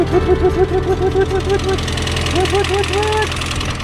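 A car engine that had sat unused for four years runs rough and knocking just after starting, loud and close, with a wavering tone. People talk over it.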